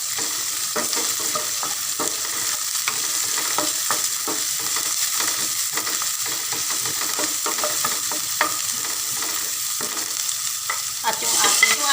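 Onions sauté for pinakbet after the garlic in a pan, a close steady sizzle broken by repeated scraping and clattering stirs of a utensil, with no talking.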